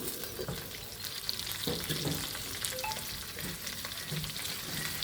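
Shallots hit a pan of frying coconut mixture for a chicken curry, giving a steady crackling sizzle with scattered scraping and stirring knocks, close and fairly soft.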